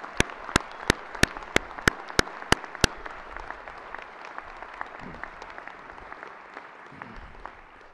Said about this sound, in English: I'd like everybody to give these people a round of applause for the remarkable achievement